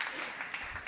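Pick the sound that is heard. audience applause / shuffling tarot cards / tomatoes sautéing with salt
audience applause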